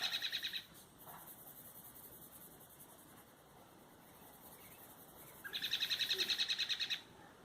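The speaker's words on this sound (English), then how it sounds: "It's one very annoying bird." A bird calls outdoors in loud repeated bursts of high chirping at the start and again near the end, with a softer steady insect-like trill running through the middle.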